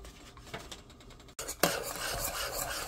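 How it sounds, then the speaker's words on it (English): Brown and white sugar stirred with two sticks of butter in a pot for a white German chocolate cake, a steady scraping and rubbing of the spoon against the pot with a brief clank partway through. "you just want to stir till your hands fall off."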